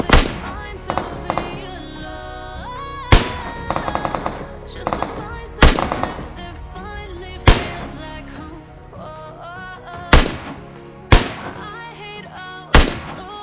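Gunfire in the mobile battle royale game PUBG Mobile: sharp, loud shots in bursts and single cracks spaced irregularly across the clip over a busy game background.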